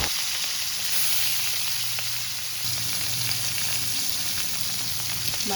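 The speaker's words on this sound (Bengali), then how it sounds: "এবার আমি মাছগুলো ভেজে নেব।" Rohu fish pieces fry in hot oil, a steady, close sizzling hiss with a faint low hum beneath and no speech.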